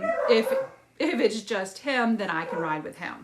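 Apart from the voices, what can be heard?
dogs barking and whimpering in the background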